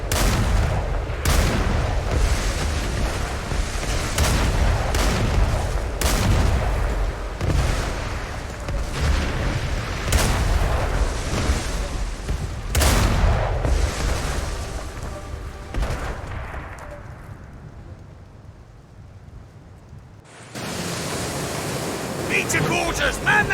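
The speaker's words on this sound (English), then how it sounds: "Use the cannon skills to attack the pirates." Ship cannons in the ArcheAge video game fire at pirates in a series of sharp, booming blasts spread irregularly over a churning sea-like rumble, then the noise briefly drops out before resuming.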